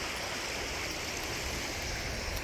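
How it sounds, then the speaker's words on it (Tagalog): Steady broadband rushing of a fast-flowing river, continuous and fairly loud, with no voices. "grabe lakas ng agos oh"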